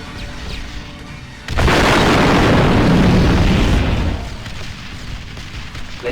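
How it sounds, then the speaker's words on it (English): A dropship blows up in Star Wars Republic Commando, a sudden loud, broad roaring explosion bursting in after a quiet stretch of game ambience, rumbling on for about two and a half seconds before settling back into a low background hum. "we need to get the rocket turrets to blow up this dropship"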